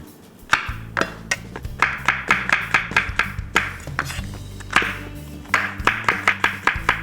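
A knife slices mushrooms thinly on a cutting board for matzo brei, a run of sharp, close chopping taps in quick rhythm with a short pause midway, no talking.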